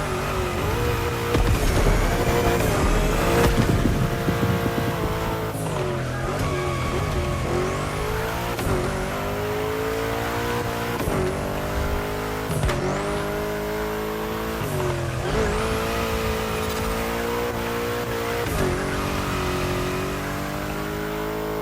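A car drifts through bends in the racing game The Crew Motorfest, its engine revving and changing pitch under repeated long tire squeals, loud and continuous.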